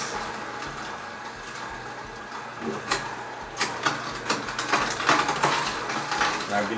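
An Omega VSJ843 juicer's auger turns while juicing, a low mechanical hum with scattered crunching clicks and pops that grow more frequent toward the end.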